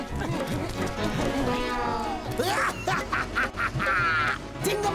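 A cartoon goose gives a run of quacking calls, honking bursts mixed with lively cartoon music and effects. The bursts are loud and fast, with a cartoon voice talking around them.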